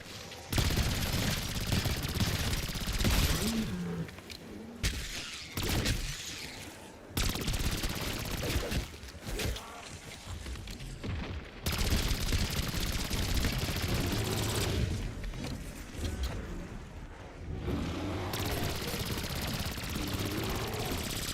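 Gunfire from a gun in Black Ops 7 Zombies video game, repeated rapid automatic bursts broken by short pauses, loud and close, with occasional talk from a player.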